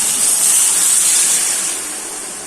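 Okra and spices sizzle in hot oil in a pan while a tilapia curry is cooked, giving a loud, steady frying hiss that eases slightly toward the end.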